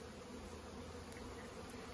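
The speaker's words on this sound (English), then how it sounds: "there's a lot of bee activity today" Honeybees fly around their hive on a bright early-fall day, giving a faint, steady buzzing hum with no voices.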